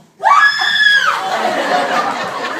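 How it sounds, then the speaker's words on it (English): A woman screams loud and long in a stage melodrama, one sustained high shriek that starts abruptly and carries on, followed by a roar of crowd laughter. "She screams loud and long."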